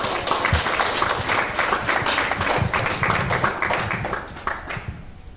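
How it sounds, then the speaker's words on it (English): Audience applause greeting a performer at an evening event, dense continuous clapping close by that holds steady for several seconds and then tapers off toward the end. "let's give a round of applause to James Manolacos."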